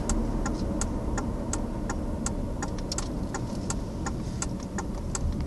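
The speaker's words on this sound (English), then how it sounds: "That's turn signal, schmuffin head" A car's turn signal ticks in a steady, even rhythm over a continuous engine and road hum, close and clear, with no voices.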